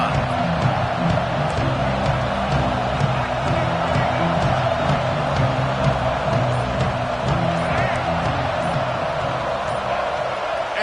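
Loud, steady roar of a stadium crowd at an Arkansas college football game, a dense continuous wash of voices with a few whoops and cheers rising out of it, plus some faint talk mixed in.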